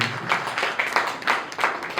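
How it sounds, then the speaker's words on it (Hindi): Applause from an audience at a literary award ceremony in Hindi, a steady wash of clapping lasting about two seconds at moderate loudness, with slight swells and no voices above it. "तालियां जोरदार आप बजाइए।"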